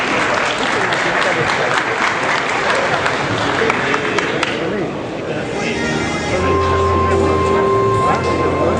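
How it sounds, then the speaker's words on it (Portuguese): An audience at a lecture applauds, giving a steady, dense wash of clapping that lasts the whole stretch. Faint crowd murmur runs beneath it, and it holds at an even level before easing slightly near the end. "vamos receber com o nosso carinho e com o nosso aplauso o jovem palestrante Julian Silva Carvalho."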